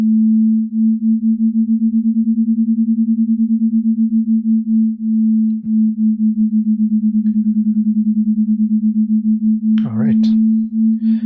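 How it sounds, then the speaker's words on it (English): Two sine wave oscillators generated in Tone.js drift in and out of tune, a steady low pure tone beating in a slow regular pulse, with a brief chirping blip near the end. "we can hear what happens to the tone when we're sort of getting those two oscillators to kind of go in and out of tune with each other"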